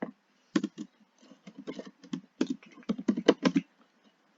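Keys clatter on a computer keyboard as a command is typed, a close, quiet run of uneven taps in quick bursts with short pauses and no talking.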